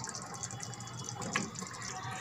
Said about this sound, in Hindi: अपने स्वाद के अनुसार हमें पानी रखना है।